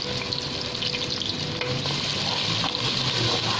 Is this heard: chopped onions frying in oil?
yes